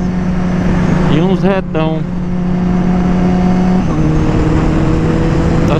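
A Kawasaki Ninja H2 motorcycle held at top speed, its engine a loud, steady high-pitched drone with a brief rising shift, under wind roar while someone speaks over it.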